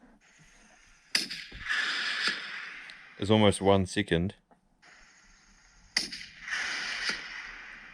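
Rifle shots fired during a fallow deer hunt: two sharp, distant cracks with decaying echoes several seconds apart, and someone speaking briefly between them.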